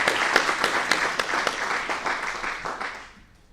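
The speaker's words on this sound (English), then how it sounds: "Let's give him a round of applause" A board meeting audience applauds an honoree with brisk, evenly mixed clapping that stays steady for several seconds and then fades away quickly.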